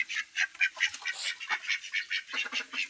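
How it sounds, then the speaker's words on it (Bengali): Farm ducks quack loudly and repeatedly in a rapid, overlapping chorus just after being let out in the morning, close by and continuous with no talking. "হাঁসগুলো ছেড়ে দিলাম"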